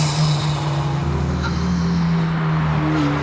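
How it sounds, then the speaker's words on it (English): Porsche 718 Spyder RS flat-six held at a steady, loud drone with strong low harmonics and slight pitch wavering as the throttle is worked, heard close up with no talking. "I find myself pressing the throttle in odd patterns just to make it create even more interesting noises like that"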